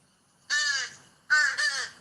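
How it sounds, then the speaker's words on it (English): A juvenile crow calls with two nasal, begging caws, the second breaking into a double note, each with a slightly downward-bending tone, close and clear with no voices. "Here's the juvenile crow."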